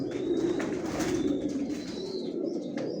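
A crowd of pigeons in a newly bedded loft coo steadily in low, overlapping murmurs, with a few faint chirps and rustles, some of the birds moulting and skittish, and no talk over them.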